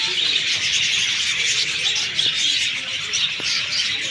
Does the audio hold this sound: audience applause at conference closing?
no